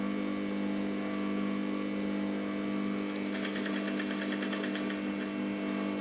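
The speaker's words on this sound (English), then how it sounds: "So when stitching this, I don't need speed." A sewing machine hums steadily at low speed while stitching a bustier with external boning chambers, a close mechanical drone with faint rapid ticking in the second half and no voices.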